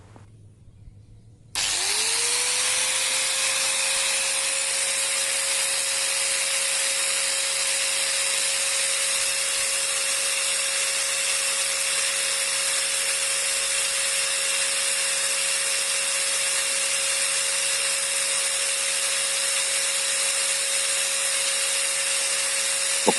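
A Stanley STGT 6100 angle grinder is switched on and run with no load, spinning up within a second into a steady, loud, high-pitched whine that holds constant to the end, alone with no talking.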